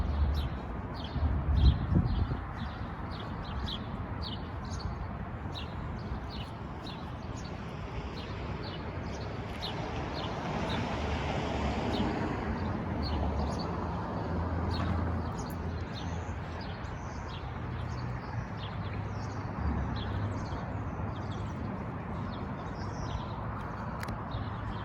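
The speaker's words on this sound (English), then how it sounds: "You can hear the birds" Birds chirp and tweet in short, scattered calls along an empty Pioneer Square street, faint and somewhat distant over a low hum of city background noise, with no people around.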